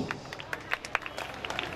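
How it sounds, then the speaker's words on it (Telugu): Applause from an audience at a stage event as someone is called up for a vote of thanks, scattered claps at moderate distance, fairly soft and uneven. "చప్పట్లు"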